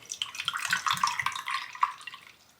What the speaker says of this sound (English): We're going to fill the tank.